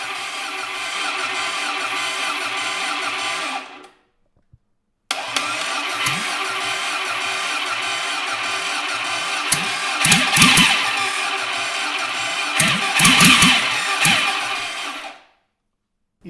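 A 1957 Mini two-cylinder prototype engine on full throttle runs with a loud, steady, pulsing buzz, cuts out briefly, then restarts and keeps running with bursts of clattering, close and alone, before stopping.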